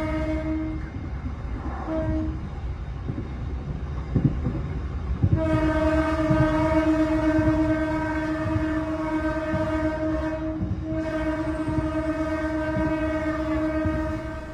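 The Wijaya Kusuma passenger train departs from the station, its long horn sounding in sustained blasts with a short break, over a steady rumble of the cars, loud and fairly close.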